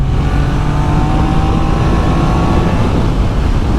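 A Triumph Daytona 660 motorcycle runs at full throttle in sixth gear around 40 mph, a loud, steady engine drone with a faintly rising tone under constant wind noise, close to the rider.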